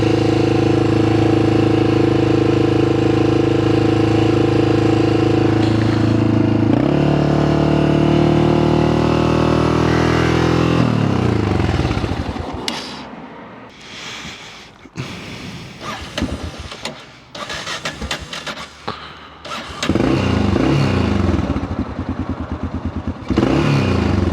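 A Yamaha XT600 dual-sport motorcycle idles steadily and loud up close, its high idle dropping in pitch and then stumbling and surging unevenly as the idle screw is turned out.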